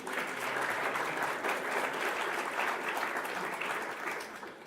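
Steady applause from an audience at a Pasadena community meeting, dense and sustained throughout with no voices over it.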